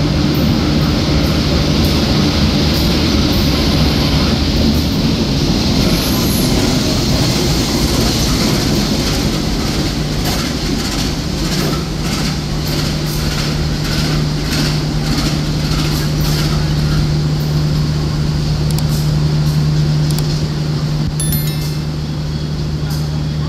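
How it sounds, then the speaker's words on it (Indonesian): Sri Tanjung passenger train pulling into Rambipuji station, a loud steady rumble with rhythmic wheel clatter building and a low hum throughout, near and continuous with no voices. "ada kereta api Sri Tanjung dari Lempuyangan tujuan akhir Ketapang Banyuwangi akan masuk di jalur 2"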